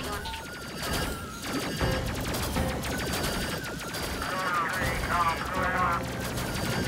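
Ship guns firing in the video game Space Crew, a steady stream of rapid shots and crashing impacts layered over music and game effects, continuous and fairly loud, with voices talking over it.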